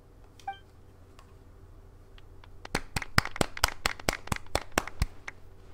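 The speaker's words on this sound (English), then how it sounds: "Let's give our champion Kaveh one last big round of applause." Applause at an award ceremony in the Genshin Impact video game comes as a run of about a dozen crisp, evenly spaced claps, preceded by a few faint electronic beeps over a quiet background.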